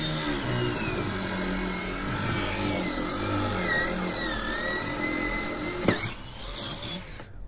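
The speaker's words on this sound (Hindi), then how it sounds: "मशीन की मदद से आप इनके जितने भी होल है सब निकाल लीजिए।" A small power drill whines steadily while boring holes, its pitch rising and dipping under load for several seconds before the bit breaks through and the motor winds down.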